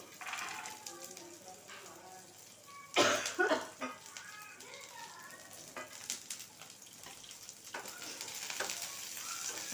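Onion and garlic frying in oil with ginger in a pan for fish sambar: a soft continuous sizzle with a louder burst of crackling as the onion goes in, then steady hissing under a speaking voice.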